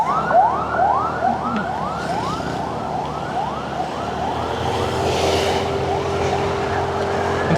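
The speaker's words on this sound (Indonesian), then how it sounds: "Kayak ada suara ambulans ya." An ambulance siren on the road wails in repeated rising sweeps, loud and steady under the hum of a moving car, with a few faint words spoken.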